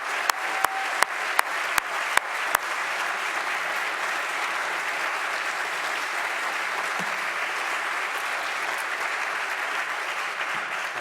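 Sustained applause from an audience at the close of an environmental debate, a steady broadband wash of clapping lasting throughout, with a few sharper claps standing out near the start.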